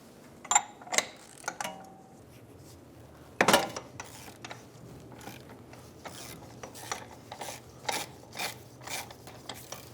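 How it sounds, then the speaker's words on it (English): An inner tie rod tool working on the front left inner tie rod of a 2007-2011 Toyota Camry gives off close, irregular mechanical clicks and ratcheting bursts, with one sharper clank early on, and no one speaks. "Using an inner tie rod tool or a large set of pliers, we're going to get on the inner tie rod and remove it."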